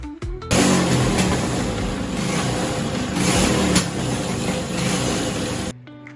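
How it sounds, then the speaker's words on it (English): A new RPM engine revs hard in a GX-UK Juniors motocross bike, a loud sustained roar that rises and holds for several seconds, starting abruptly and cutting off near the end. "Finally got the new engine as well from RPM."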